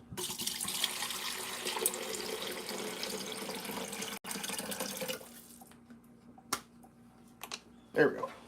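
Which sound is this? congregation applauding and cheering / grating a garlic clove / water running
water running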